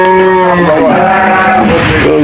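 A large bull at a busy cattle market gives a loud, drawn-out moo close by, with its wavering tone shifting midway, over faint market background.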